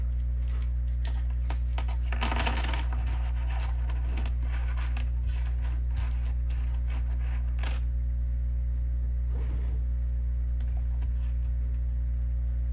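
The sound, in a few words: letter tiles being shuffled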